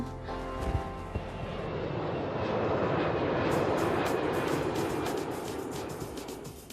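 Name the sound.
aircraft noise at Pudong Airport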